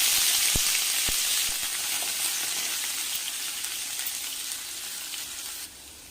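Onions and fennel seeds frying in hot oil give a loud, dense, continuous hiss and sizzle close up, with a few sharp pops early on, easing slightly before dropping near the end.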